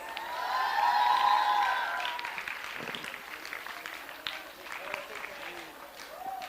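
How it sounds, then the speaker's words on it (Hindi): A crowd claps and cheers at a Dev Anand quiz show, the applause swelling early and then thinning into scattered claps, with a brief musical tone at the start and voices mixed in. "तालियां बजाइए"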